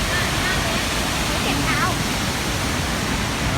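Haew Suwat waterfall gives a loud, steady, unbroken rushing roar, with a faint voice briefly audible beneath the constant water noise.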